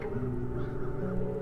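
Crows caw in the fantasy adventure game The Dark Eye: Chains of Satinav, faint hoarse calls over a steady low droning ambient game soundscape.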